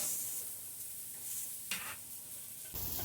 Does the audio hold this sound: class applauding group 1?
no